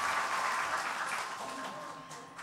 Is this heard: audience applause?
yes